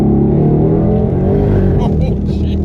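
A car with well over 1,000 horsepower on hard 235 street tires accelerates on a straightaway, its engine roaring loud and close throughout.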